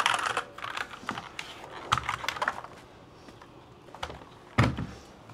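Typing on a Cooler Master gaming keyboard at an esports hotel, bursts of clacky mechanical keystrokes close up, irregular and uneven, with pauses between flurries and one heavier thunk near the end.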